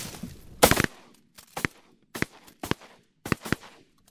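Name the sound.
gunshots while duck hunting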